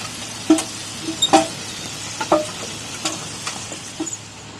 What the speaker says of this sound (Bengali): এবার আলুগুলো ভাজি